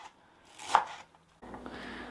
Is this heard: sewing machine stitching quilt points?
no